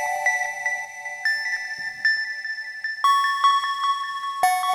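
A recurring synth motif in the verse of a pop song, with plucky bell-like notes in a lilting pattern that shifts pitch midway, clean and moderately quiet without any voices.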